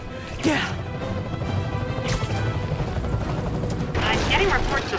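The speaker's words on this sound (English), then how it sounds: "I'm getting reports of a helicopter with a wrecking ball." A helicopter carrying a wrecking ball in the Marvel's Spider-Man game thrums steadily while crashes and smashing impacts hit at intervals, loud and dense, with voices partly under the noise.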